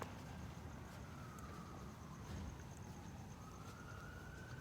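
A faint fire station siren wails far off, its tone slowly rising and falling over a low background hum.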